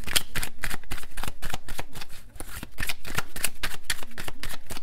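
A deck of cards shuffled by hand for a card reading, a dense run of close, crisp riffling flutters with brief pauses and no voices.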